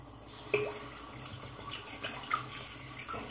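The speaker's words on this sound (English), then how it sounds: "Quick rinse." Running tap water splashes briefly over a razor for a quick rinse during a vintage shave, a close, steady gush with small clinks, no talk.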